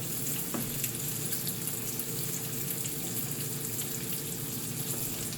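Bacon frying in a big skillet, a steady crackling sizzle running unbroken throughout, close and fairly loud with no voices.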